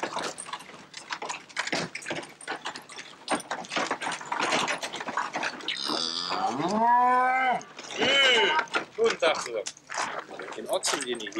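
A rare Glan-Donnersberger cow at an open-air farm museum lets out loud, drawn-out moos close by amid ticking clatter and people talking.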